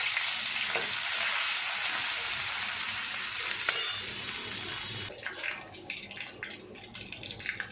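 Panch phoron spices and crushed ginger sizzle in hot oil in a pan, a steady loud frying hiss that thins into crackling spurts after a stir near the middle.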